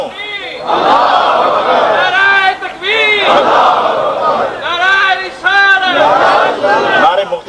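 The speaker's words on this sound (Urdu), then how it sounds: "نعرے مختصر کریں بھائی" A crowd at a religious gathering chanting slogans in loud call-and-response bursts, several massed voices rising and falling in repeated waves close to the microphone.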